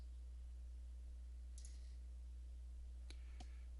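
A computer mouse button clicks a few times, sharp faint ticks near the end that stand out over a low steady hum, with no voices.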